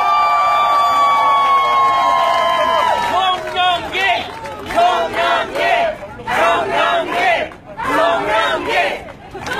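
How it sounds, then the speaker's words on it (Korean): A crowd at a Korean presidential campaign rally breaks into cheering, shouting and clapping. The noise comes in loud, surging bursts, with voices and chanting mixed through it. "여러분의 힘찬 박수로 모시겠습니다"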